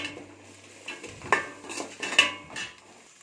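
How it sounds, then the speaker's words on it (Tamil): Tomatoes being stirred and sautéed in a pan, heard as a few close clinks and scrapes of a utensil against metal over a soft background, with no frying sizzle evident. "தக்காளி சேர்த்து நல்லா வதக்கிக்கலாம்"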